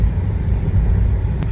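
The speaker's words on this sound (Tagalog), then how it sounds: "traffic na masyado dito" Heavy road traffic heard from inside a moving vehicle: a steady, loud low rumble of engines and tyres with no distinct passing events.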